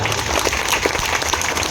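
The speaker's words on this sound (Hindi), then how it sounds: "इसके लिए एक बार जोरदार ताली होनी चाहिए।" Crowd at a village gathering in Basupur, Azamgarh, gives loud, dense applause, many hands clapping close together in a continuous burst across the short span.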